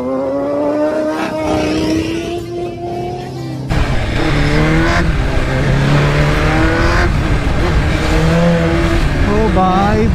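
Motorcycles, including a Yamaha R15 and a BMW, race along a road with loud engines revving and shifting pitch close to the listener, while wind rushes past and voices speak over it.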